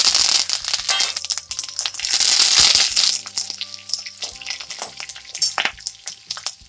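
Tempering spices for pulihora mango pickle, including ginger pieces, green chilli pieces and curry leaves, crackle and sizzle in hot oil, with loud irregular pops and spatters and some clinking over a few seconds.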